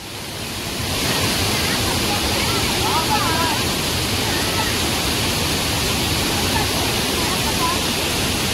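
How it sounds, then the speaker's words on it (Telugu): A waterfall at Penna Ahobilam temple roars in a steady, loud, continuous rush of falling water, with faint voices barely audible under the noise. "చాలా బాగా అయితే ఉంది వాటర్ ఫాల్స్"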